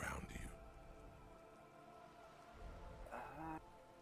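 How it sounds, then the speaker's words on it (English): Steady rain patters on wooden boards and the surrounding water in the Disco Elysium game, a soft continuous hiss with a talking voice above it at the start and again near the end. "All around you, rain keeps falling down. On the wooden boards she's standing on, and on the water around you."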